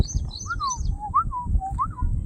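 A drongo calls with clear, bending whistled notes repeated several times, mixed with higher chirps from small birds, over a steady low outdoor rumble; no one speaks.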